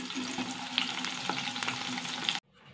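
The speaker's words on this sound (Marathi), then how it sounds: "आता ही हिरवी मिरची थोडीशी तळून घ्यावी तेलावर." Green chillies sizzle and crackle steadily in hot oil while being fried for potato chivda, a loud continuous spatter with a few sharper pops, cutting off abruptly near the end.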